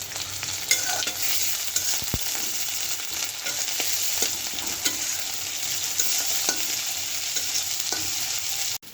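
Onion fries with whole spices such as cinnamon and cardamom in a pan, a steady close sizzle with intermittent scraping and stirring throughout, no voices.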